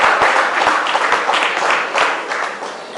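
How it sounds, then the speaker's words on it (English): Audience applause at a civic cultural event honouring Miss Joan Yule Williams, a dense steady patter of many hands clapping throughout, fairly loud and continuous with no voices over it. "I would just like you all to give her a round of applause"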